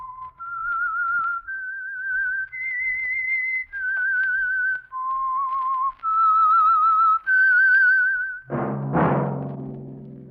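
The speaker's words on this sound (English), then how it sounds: "That whistle is your signal for the Signal Oil Program, The Whistler." A whistled theme melody for The Whistler mystery radio program, a clear solo tune of sustained notes stepping up and down for about eight seconds, followed by a sudden orchestral chord.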